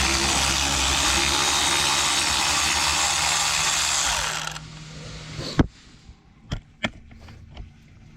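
A Milwaukee power tool removing bolts from the water pump of a DT466E engine: a loud, steady whirring run for about four seconds stops abruptly, followed by a few sharp metallic clanks and knocks.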